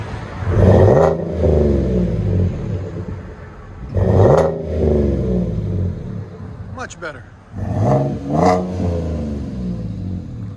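A V6 Chevrolet Silverado with a Flowmaster Super 10 exhaust revs loudly three times, each burst climbing and falling away. Between the revs the engine idles with a low rumble, and someone speaks briefly near the end.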